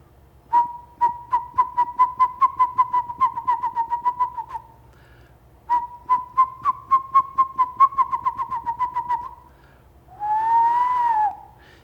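A West Coast screech owl calls with two runs of rapid, evenly spaced whistled hoots that speed up like a bouncing ball, followed by a short rising trill, clear and fairly close against a quiet background.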